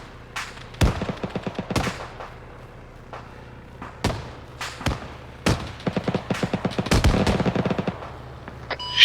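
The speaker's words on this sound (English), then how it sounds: "Shots at northwest." Machine-gun fire in a military combat video game comes as irregular single shots and rapid bursts, some louder and some more distant, with a steady mechanical hum underneath.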